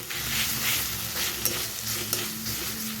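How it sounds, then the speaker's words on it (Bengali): Onions are stirred and fried in a pan for palak paneer, a close, continuous sizzle with a few soft scraping knocks from the stirring utensil. "এবার দিয়ে দেবো পেঁয়াজ দিয়ে দিলাম, এটাকে একটু লাল লাল করে ভাজবো"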